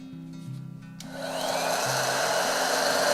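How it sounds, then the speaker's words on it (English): A heat gun switches on and blows hot air into a drilled metal manifold pipe for bamboo rod building, a steady loud rushing whoosh following a low hum. "heat gun"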